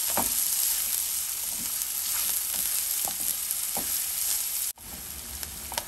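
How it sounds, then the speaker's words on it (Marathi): Chopped onion sautés in a pan for a colocasia leaf stir-fry, a steady close sizzle with occasional soft stirring scrapes, cutting out briefly near the end before resuming, with no talk. "यात आपण आता चिरलेला कांदा घालूया. हे आपण आता छानपैकी परतून घेणार आहोत."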